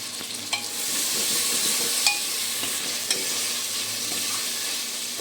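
Onions and tomatoes fry in a pan on a home stove with a steady, loud sizzle, and occasional sharp clinks as a spoon stirs them.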